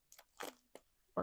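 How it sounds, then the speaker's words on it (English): Plastic travel tissue package having its tab torn open, giving a few short crinkly crackling bursts close by with brief pauses between, the last burst loudest. "I'm just going to open it up and tear off the tab"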